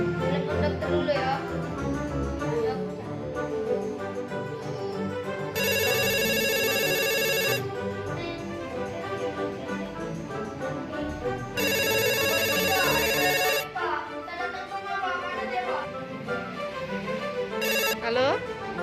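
A telephone rings in two long electronic bursts with a short third chirp near the end, loud and close, while a child and an adult talk around the rings.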